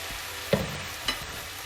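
Potato chunks dropped into a hot wok of softened diced tomatoes, giving a steady close sizzle with two sharp clacks of the spatula stirring.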